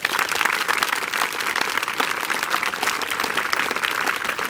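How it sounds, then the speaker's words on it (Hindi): An audience at an academy's motivational event in a market town breaks into loud, dense applause, many hands clapping at once, continuous and fairly close. "पहले तो इनके लिए तालियां बजाएं।"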